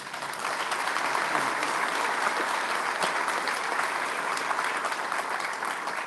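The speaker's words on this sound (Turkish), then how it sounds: "sizden büyük bir alkış istiyorum" Sustained applause from a large crowd, dense steady clapping that continues at an even level throughout without pause.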